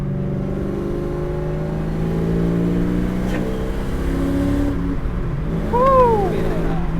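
A supercharged Foxbody Saleen Mustang engine revs and accelerates from inside the car, a steady loud growl with rising and falling harmonics and a brief whine sweeping up near the end.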